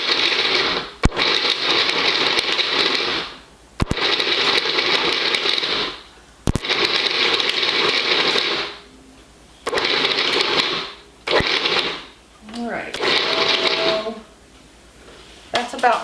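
A food processor pulsing chilled butter into flour for a pie crust, five loud whirring bursts of a few seconds each separated by short pauses.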